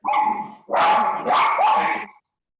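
A dog barks during an outdoor walk in three loud, close bursts: a short opening bark, then two longer, rougher barks in quick succession, with no other sound between them.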